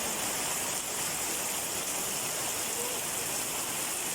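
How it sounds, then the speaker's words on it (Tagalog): A heavy, unbroken roar of rain pours down, thick and constant, like a downpour drumming nearby with rushing water mixed in. "sa sobrang lakas ng ulan"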